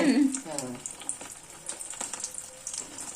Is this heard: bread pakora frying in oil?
yes